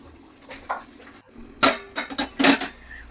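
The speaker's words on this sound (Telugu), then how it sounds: "మూత పెట్టేసుకోవాలి" A metal lid is set down onto a pot of ridge gourd and potato curry, giving a few close, sharp clinks and clatters in quick succession, with no talking.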